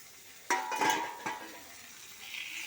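A spoon scrapes and clatters through fried potato and eggplant mixed into spice paste in a pan, a few distinct stirring strokes over a soft background sizzle.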